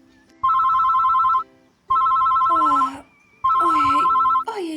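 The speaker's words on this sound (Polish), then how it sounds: "Telefon dzwoni." A phone rings in the Toca Boca video game, three loud electronic bursts of ringtone separated by brief pauses, with cartoonish voice-like chirps mixed into the later rings.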